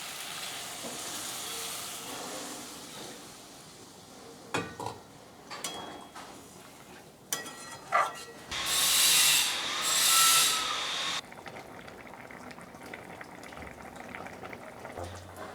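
Water is poured into hot oil with spiced potato and ridge gourd for a fish curry, setting off a loud hissing sizzle that swells for a few seconds and then drops to a quieter bubbling simmer, after some brief clatter of utensils.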